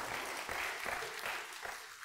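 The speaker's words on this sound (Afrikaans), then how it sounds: "Kom ons gee vir hulle nog so 'n hande klap" A church congregation gives a round of applause for the children after a Christmas carol service; steady, moderately faint clapping from many hands fills the whole stretch.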